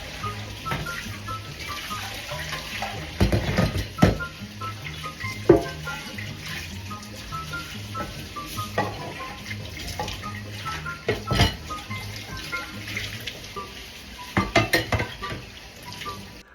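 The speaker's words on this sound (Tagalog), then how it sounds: "hinugasan ko na ang aking pinagkainan at iba pang mga hugasin katulad ng mga kawali" Dishes and frying pans are washed in a kitchen sink, with running tap water, clinking cutlery and occasional sharper knocks of crockery and pans at close range, and no talk.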